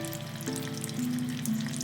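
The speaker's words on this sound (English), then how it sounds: "Now it has slowly started sizzling. As you can see, it is sizzling." Steady, close sizzling of stuffed bell peppers frying in a pan over low heat, a constant crackling hiss throughout.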